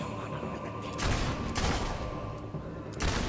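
Gunfire in the video game Fable II: bursts of shots crack in dense, overlapping volleys, loud and close, with sharp onsets near one and three seconds and no talking.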